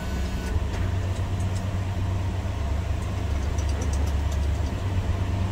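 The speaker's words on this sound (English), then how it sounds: "go ahead and fire this up and hear it run" A 1979 Chevrolet C20 Camper Special pickup with a 4-speed transmission runs at a steady idle, a continuous low engine rumble heard up close with faint ticking and no speech.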